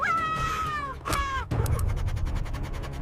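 A cat stuck in bushes cries out in two long, wavering, distressed meows, followed by a rapid run of short rhythmic sounds, close and fairly loud with no voices.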